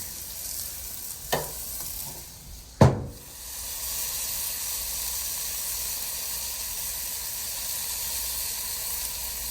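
Venison backstrap sears in a hot cast iron pan with a steady, close sizzle, broken by a brief clatter and a louder burst of hissing as the meat is turned.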